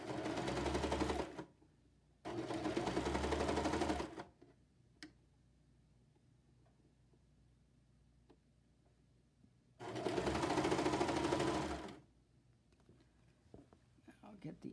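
A serger overlock machine stitches and trims a t-shirt seam in three loud, steady bursts of whirring, separated by quieter gaps with soft handling sounds and faint ticks.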